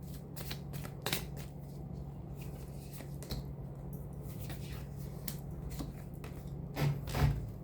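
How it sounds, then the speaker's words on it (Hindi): Tarot cards shuffled and drawn for a reading, giving a steady run of soft papery riffles and slides with a few sharper snaps near the end, close and quiet over a faint low hum, with no talking. "तीन मुख्य कार्ड मैं निकालूंगी जो आपसे रिलेट करवाएगा इस रीडिंग को"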